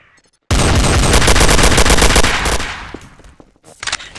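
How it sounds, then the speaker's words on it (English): Loud, sustained automatic gunfire from a Garry's Mod DarkRP server, a dense rapid burst lasting a couple of seconds before trailing off into scattered shots and faint echoes. "Someone's shooting."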